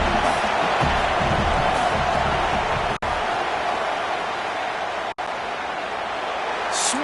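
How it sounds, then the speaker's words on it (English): Steady, dense roar of a stadium crowd in the College Football 27 video game as the field goal unit lines up, a continuous wash of noise with faint cheers rising near the end. "This crowd trying to do its part to get inside the kicker's head"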